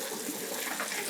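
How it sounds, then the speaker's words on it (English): Cold tap water runs steadily over cooked noodles in a kitchen sink, a close, even hiss of flowing water ending in a brief louder splash. "so I'm gonna run some cold water over this so that the noodles stop cooking."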